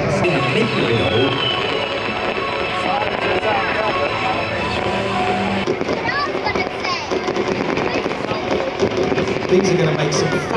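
Evening airshow pyrotechnics on a seafront crackle and fizz continuously at moderate distance, layered with aircraft engine drone and wind buffeting, while a commentator talks over the whole stretch.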